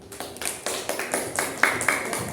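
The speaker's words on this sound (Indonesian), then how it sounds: "Tepuk tangan dulu" A class of students claps hands together in a school classroom, a run of roughly ten distinct rhythmic claps close by with no talk over them.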